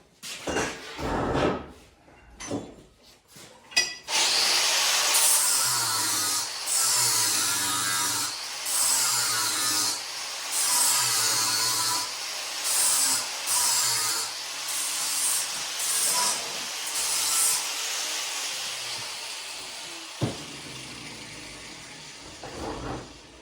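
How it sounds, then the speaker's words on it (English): Metal part being ground by hand during car chassis fabrication, a loud rough power-tool whine running in repeated bursts with short pauses, steady and close for most of the stretch after a few brief knocks at the start. "Actually, I'm going to grind it a little bit."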